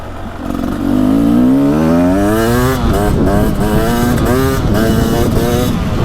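A 2024 Beta 300 Race Edition two-stroke dirt bike engine revs up loud and close, its pitch climbing and then wavering through a series of rising and falling revs over a steady raspy drone, with no talking.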